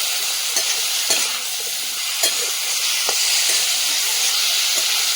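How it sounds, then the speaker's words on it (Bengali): Spices cooking with salt and turmeric in a hot pan, giving a steady sizzling hiss broken by a few soft scraping stirs. No one speaks. "দিয়ে দেবো লবণ, দিয়ে দেবো পরিমাণ মতো হলুদ গুঁড়ো। তারপরে কষিয়ে নেবো।"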